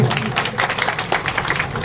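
Crowd clapping at an outdoor political rally, a dense steady patter of many hands filling the whole moment at close range with no voices over it.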